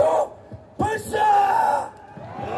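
Rally participants at a patriotic flag rally on National Foundation Day shout together in unison, two loud collective yells close by with a brief lull between them.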